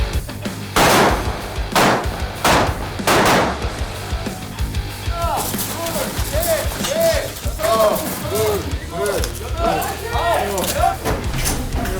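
Gunfire at a shooting range during military training at the Joint Security Area: loud close shots ring out early, then voices chatter and whoop over continued background noise.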